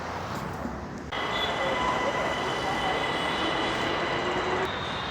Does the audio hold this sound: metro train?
yes